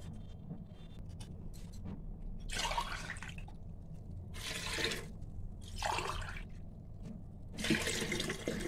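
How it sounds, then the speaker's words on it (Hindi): Water poured into a pressure cooker holding washed chana dal and chopped bottle gourd on a gas stove, coming as several splashing bursts over a steady low background hum. "अब इसमें डालेंगे पानी"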